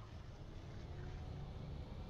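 A tractor in Farming Simulator 19 driving over rough ground, a steady low engine drone and rumble, continuous and fairly quiet, with no talking over it.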